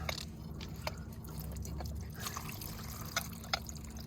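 Water drains from the bottom plug of an above-ground pool's sand filter, a quiet steady trickle with scattered soft drips and a low hum beneath.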